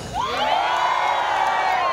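A crowd of pilgrims at a night gathering at the National Shrine of Our Lady of Salambao shouts and cheers together in a loud, sustained roar, with whoops rising above the mass of voices.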